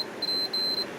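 A multimeter set to continuity gives a series of high, steady electronic beeps as its probes meet a food dehydrator's heating element, with short gaps between tones.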